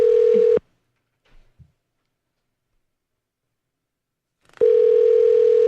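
A steady telephone dial tone sounds loudly while a call is being connected, cutting off abruptly, leaving near silence with a couple of faint taps, then returning just as loud.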